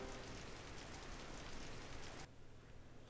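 Steady rain falling in the Final Fantasy VIII video game, a soft, even wash of hiss that drops noticeably quieter near the end.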